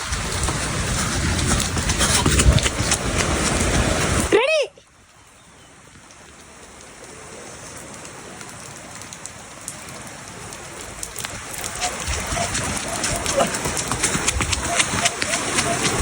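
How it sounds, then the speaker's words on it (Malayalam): Heavy rain pours down on an outdoor spot used for uphill sprint training, a steady loud hiss that cuts out abruptly for a moment, then returns softer and gradually builds again to a dense downpour. "നല്ല മഴയായി."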